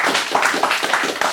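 Short burst of audience clapping for a performance poet at a live reading, a moderate crowd applauding close by with uneven, overlapping claps.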